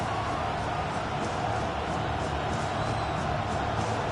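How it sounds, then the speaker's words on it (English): Steady stadium crowd roar from a Madden football video game, a dense, constant wash of noise that stays loud and even throughout. "Crowd noise rises"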